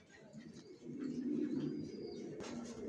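A pair of young racing pigeons coo close by, their low throaty calls repeating through a steady murmur of background sound.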